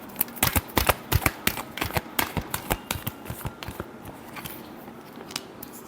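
Tarot cards being shuffled by hand, a quick run of sharp close riffling snaps that thins toward the end.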